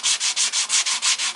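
Sandpaper of 80 grit is rubbed back and forth over a wooden guitar headstock, giving about nine even, rhythmic rasping strokes, close and loud, with no talk.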